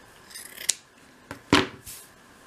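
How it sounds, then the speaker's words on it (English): Scissors snip through a thick piece of quilt wadding for dolls house patchwork, giving a few crisp, close cuts: one quick snip, then a louder, longer slicing cut, with quiet pauses between. "So let me just trim a piece off of there."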